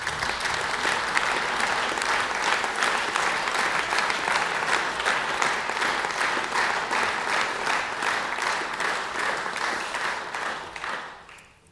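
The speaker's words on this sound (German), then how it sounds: "Applaus" Sustained audience applause following a commemorative speech marking 25 years of a state constitution, even and dense for over ten seconds before tapering off abruptly at the end.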